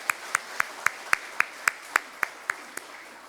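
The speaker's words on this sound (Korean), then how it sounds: "영광의 박수 다시 한번 돌리겠습니다" Slow, steady claps from a church congregation at an early-morning prayer service, about a dozen evenly spaced sharp hits ringing in a reverberant room, fairly quiet.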